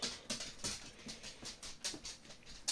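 A dog chasing a fly makes faint, quick scuffling and pattering, with short breathy bursts repeating at an irregular pace close by, and no voices.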